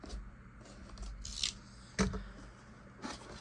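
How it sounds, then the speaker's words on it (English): Scissors snipping packing tape on a Star Wars Vintage Collection toy box: a few quiet, close metallic clicks and snips spaced apart, with no talking. "Cut the tape"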